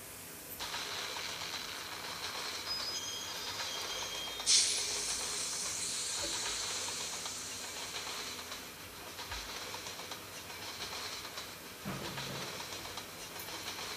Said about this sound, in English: The fastest train ever.